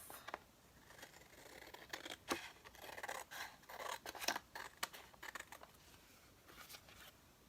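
Small scissors snipping and trimming paper up close, a quiet series of crisp irregular cuts and rustling scrapes clustered in the middle, fading toward the end.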